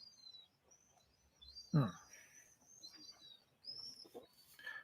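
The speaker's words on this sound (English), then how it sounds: "So the birds are being noisy again" Birds chirp in short, high, faint tweets that repeat through a quiet outdoor scene, with one brief louder rustle partway through and no voices.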